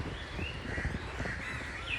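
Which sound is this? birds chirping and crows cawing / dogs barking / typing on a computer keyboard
birds chirping and crows cawing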